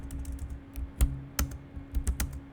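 Python code being typed on a computer keyboard gives scattered, fairly quiet clicks in irregular bursts, with a few sharper keystrokes standing out over a low background hum.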